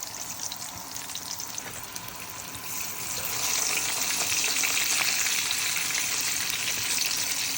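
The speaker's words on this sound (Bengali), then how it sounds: "তেল পড়ছে, তেল পড়বে আমার হাতে।" Shrimp and eggplant fry in hot oil that spatters and crackles over a continuous sizzle, the frying growing noticeably louder partway through, with no talking.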